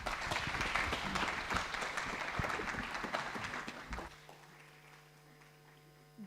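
An audience at an investment learning event applauds a panel session, with a steady wash of clapping for about four seconds before it drops away to a quieter hum of the room.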